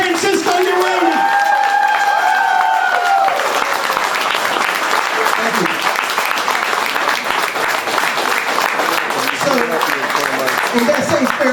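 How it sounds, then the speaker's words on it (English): A crowd at a Massachusetts political event applauds a candidate, dense continuous clapping that swells in after a voice over a PA and stays loud and steady to the end. "let's put our hands together for Francisco Urena"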